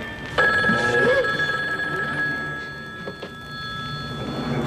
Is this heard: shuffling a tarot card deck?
no